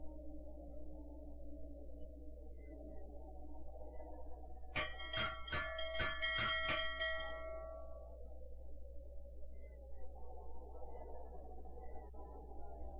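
In a classic adventure game, a bell rings several times in a quick cluster of bright, resonant strokes over a low steady hum, and the tones then fade back into the ambience.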